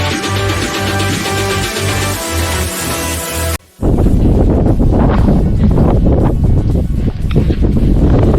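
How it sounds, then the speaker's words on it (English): Strong wind buffeting the microphone on the Cornish coast path between Marazion and Land's End, a loud, continuous roar with gusty surges that fills the whole clip, after a brief cutout partway through. "It's quite windy."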